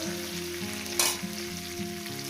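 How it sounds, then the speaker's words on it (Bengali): Cauliflower frying in a pan with vegetable ghee, a steady close sizzle with a brief louder burst of spitting in the middle, no voices. "ফুলকপিটা দিয়ে আরও মিনিট দু ধরে দু মিনিট ধরে আমি ভেজে নেব"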